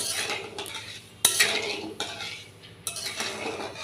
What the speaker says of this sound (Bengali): এবার একটুকে নাড়াচাড়া করছি, একটুক্ষণ হিট লেগে গেলে গলে যাবে